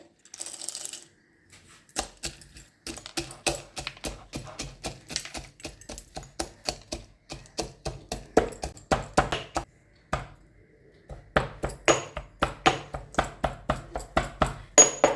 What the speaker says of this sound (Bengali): এটাকে আমি একটু গুঁড়ো করে নেব হামালদিস্তায়।